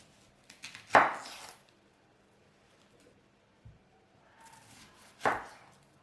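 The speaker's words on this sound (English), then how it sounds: "I cut the red tomato in half and onion in the slide." A knife cuts red tomato and onion in a quiet kitchen, giving two distinct sharp chops several seconds apart, with faint small clicks in between.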